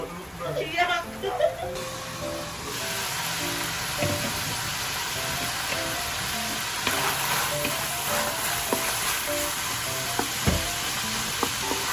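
Steady sizzle and crackle of spaghetti sauce frying in oil in a pan, close and continuous, with stirring scrapes and a speaking voice over it.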